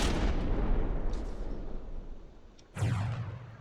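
The Black Sun tank's gun firing HESH rounds in a tank-battle video game, two heavy booming shots, one at the start and another near the end, each trailing off in a rumbling echo.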